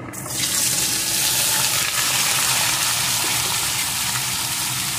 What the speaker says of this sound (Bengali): এখন এই তেলের ভিতরে পেঁপের টুকরোগুলোকে দিয়ে দেব।